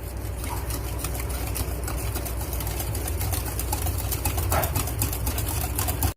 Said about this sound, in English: And now we're going to whisk this right now.